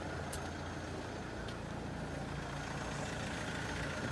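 A car engine idles steadily after a jump start, a continuous low rumble with a couple of faint ticks and no talk.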